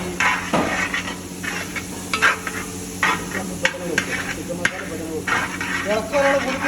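Masala with pepper powder, cooking for a chicken gravy, is stirred in a pan with repeated close scraping and clinking strokes over a light sizzle, while a voice talks intermittently.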